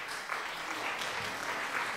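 A stream alert plays a canned applause sound effect: steady, dense clapping from a crowd, fairly loud and continuous for about two seconds, with no voices over it.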